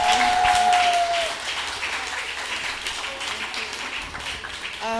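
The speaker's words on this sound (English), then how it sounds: "A huge round of applause to Safiya Kamaria Kinshasa, Desiree C. Bailey, and Samantha Thornhill." A round of audience applause for three poets at a reading: dense, steady clapping that follows a brief spoken announcement and holds at an even level throughout.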